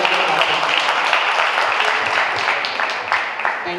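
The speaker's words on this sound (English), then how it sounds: "If you all don't clap, she's not gonna come up. So y'all better get clapping" Audience clapping at an African-Caribbean summit event, a loud, dense burst of applause from a crowd, steady across the short stretch with a few sharper claps standing out.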